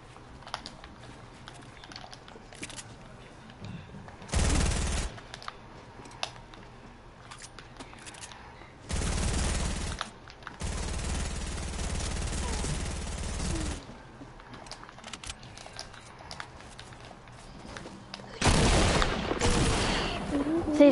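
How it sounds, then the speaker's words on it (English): Bursts of automatic gunfire from a Havoc rifle in a shooter video game come in several separate volleys, each lasting about a second or more, between quieter stretches of game ambience and keyboard clicks. "He shot me through my wall 6 times."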